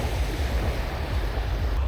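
Ocean waves washing onto the beach at Excellence Riviera Cancun, a continuous low surf rumble mixed with wind buffeting the microphone, with no talking.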